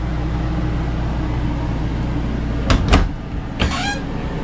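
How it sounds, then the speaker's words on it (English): A small closet door in a compact RV slides and bumps twice in quick succession, then once more a moment later, over a steady low hum. "you have a separate little door for your main closet"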